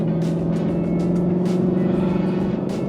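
A 2020 Ford Mustang Shelby GT500 driving at a slowed pace through a construction zone, its engine holding a steady low droning hum with a faint rumble, heard from inside the car and alone.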